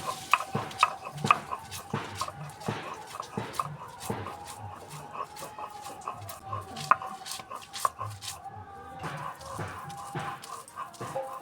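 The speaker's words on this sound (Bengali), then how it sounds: "এবার থানকুনি পাতা বেটে নেব।" Thankuni (Indian pennywort) leaves are ground into a paste in a village kitchen with a run of close, rhythmic scraping and crushing strokes, steady for several seconds, then briefly pausing before the strokes resume.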